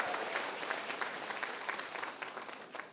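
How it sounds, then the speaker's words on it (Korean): Lecture hall audience breaks into applause, a dense, even rush of many people clapping, fairly quiet and distant, sustained throughout with a few clearer claps surfacing near the end. "박수 소리가 너무 작아요."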